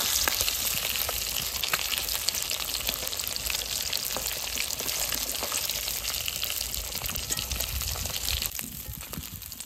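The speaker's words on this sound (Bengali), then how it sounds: "সব মাছগুলো সুন্দর করে ভেজে নিয়েছি," Catla fish frying in hot oil in a home kitchen, a steady, continuous sizzle and crackle filling the whole stretch without a break.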